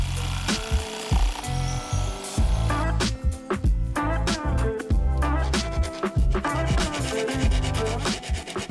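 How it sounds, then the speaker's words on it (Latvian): A jigsaw cuts pipe notches into wooden shelf boards, a continuous buzzing rasp with pulsing strokes that runs loud through the whole stretch, with no talking. "Tagad katram plauktam izzāģēsim vēl 2 iegriezumus caurulēm."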